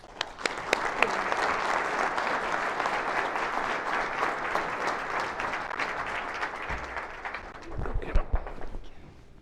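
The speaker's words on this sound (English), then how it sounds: "Let's give her a round of applause" An audience at a no-till farming conference applauds speaker Erin Martin. Dense, steady clapping fills the room and fades out near the end, where a few voices and handling sounds are heard.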